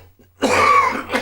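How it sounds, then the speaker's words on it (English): A single harsh cough, close to the microphone, after a moment of quiet, with a short second catch at the end. "Sorry, I'm coughing."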